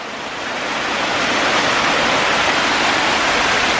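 Canal water from the higher Ashton Canal overflows and pours down into the River Medlock's underground culvert, a steady, loud rushing roar of falling water that swells slightly at the start and then holds constant, with no voices.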